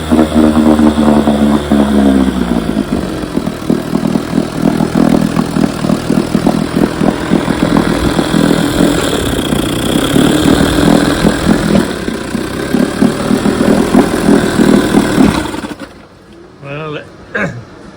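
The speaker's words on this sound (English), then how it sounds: "As you can see, there's nothing wrong with Michael's carburetor." A 1968 Evinrude 18 HP outboard motor running with a swapped-in carburetor, a loud steady idling drone with throbbing firing pulses and slight revving, over a voice, before the engine cuts out near the end.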